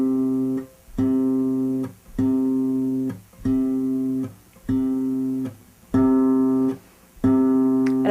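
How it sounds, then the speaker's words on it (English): An acoustic guitar in Brazilian bossa nova style plucks a single bass note over and over in an even, metronomic pulse, about seven clear, ringing strokes with short gaps between them, played alone and close. "a bass note that repeats in a metronomic way"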